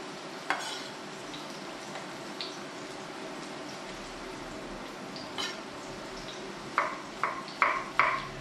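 Spring onion softening in a pan with oil, then sliced zucchini rounds, a quiet steady sizzle broken by light clinks and scrapes of a utensil against the pan, growing busier toward the end.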